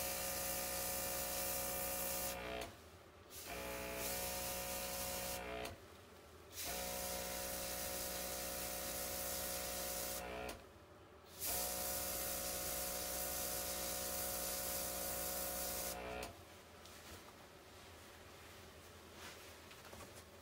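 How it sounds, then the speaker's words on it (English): OPAWZ airbrush spraying dye during creative dog grooming, a loud steady hiss in several long bursts separated by brief pauses, with no talking. "When you're doing this type of designs, then yeah, you can use airbrush as well."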